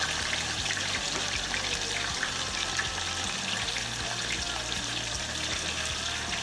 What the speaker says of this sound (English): let's go ahead and put our vinegar in